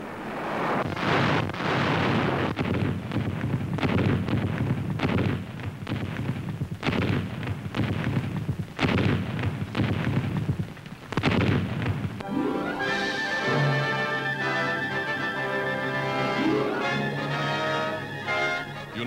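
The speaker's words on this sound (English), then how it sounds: "United States officers now observe the effect of rapid artillery fire, the kind of mass barrage that bewilders the enemy." A rapid mass artillery barrage from 1943 wartime Pacific newsreel footage, with dense, continuous booming blasts tumbling over one another in a loud roar before a band's music takes over.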